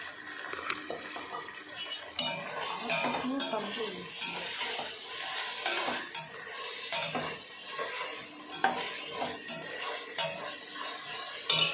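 Ginger garlic paste sautéing in a pan for chicken biryani, a steady close sizzle and fry with repeated stirring scrapes and occasional clinks of utensil against metal throughout, no voices.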